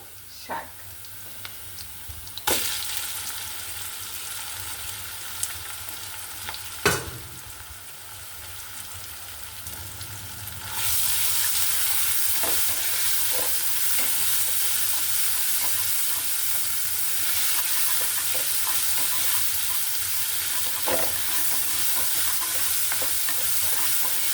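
Greens frying with fried onions in a pan, stirred with occasional sharp clanks at first, then a loud, steady, broad sizzle that persists to the end, close by.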